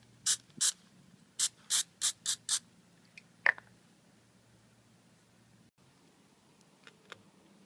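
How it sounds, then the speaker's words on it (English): Short sharp hissing bursts from a can of PVC pipe weld spray glue, about seven quick sprays in a loose rhythm followed by a couple of faint clicks and a final brief puff, close and fairly quiet. "Here's the glue that we're using is this pipe weld spray"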